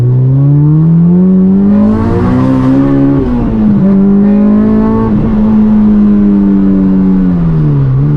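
A K-swapped Honda Civic EG engine revs hard and close to 8,500 RPM, its whining pitch climbing high, dipping briefly, then climbing again as it pulls through the gears.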